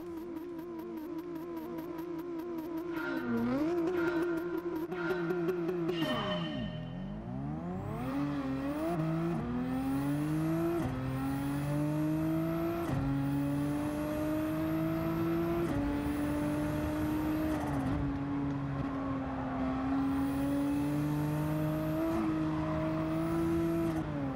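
A Nissan GT-R Nismo GT3 '13 race car at Trial Mountain Circuit in a racing game, its engine climbing loudly through gear after gear with sharp upshifts, a sustained near whine with no talk.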